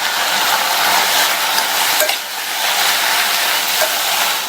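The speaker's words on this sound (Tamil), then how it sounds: "இப்போ இது எல்லாத்தையும் நிதானமான தீயில வச்சு 3 நிமிஷத்துக்கு வதக்கிக்கலாம்." Tomatoes and tamarind sautéing in a pan on low heat for chutney, giving a continuous close sizzle with light stirring.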